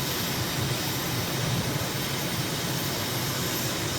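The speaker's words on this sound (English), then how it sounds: "I like this jet trainer, it's a great recon vehicle" Steady jet trainer engine drone in a flight simulator game, a broad, even roar with low rumble running unchanged and alone throughout.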